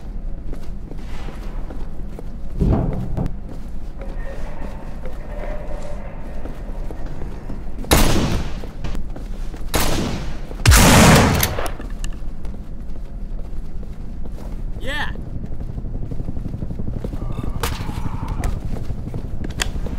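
Gunfire in the zombie video game No More Room in Hell: a handful of sharp, loud shots spaced several seconds apart over a low, rumbling background, with no talking.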